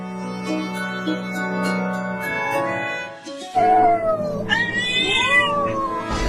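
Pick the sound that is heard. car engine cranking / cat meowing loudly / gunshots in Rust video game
cat meowing loudly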